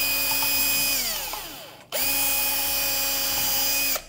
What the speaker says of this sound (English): So I'm gonna drill the holes.